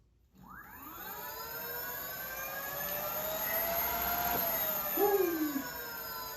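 A 3000W dual-motor AWD electric scooter, an Aniioki A8 Pro Max converted to a 52V system, accelerates hard from a standstill. Its motor whine climbs steadily in pitch and grows louder, with a brief extra squeal near the end.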